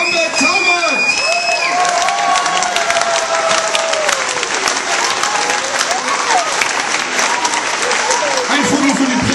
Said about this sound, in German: nochmal einen Gesamtapplaus an sämtliche Initiatoren und Macher von Bamberg zaubert!